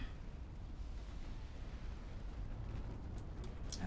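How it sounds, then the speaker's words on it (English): A torpedo detonation in the naval warfare game Ultimate Admiral Dreadnoughts: a deep, sustained explosive rumble that holds steady and loud throughout, with a few faint higher crackles near the end. "Torpedo detonation."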